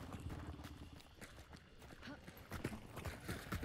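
Horse hooves clip-clop at a trot or gallop in the Hunt: Showdown video game, faint and steady, with a voice talking quietly over them.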